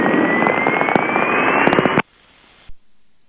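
Small single-engine training airplane accelerating down the runway for a touch-and-go practice takeoff, a loud steady engine roar rising in pitch for two seconds, then cutting off abruptly to near silence with a brief thump.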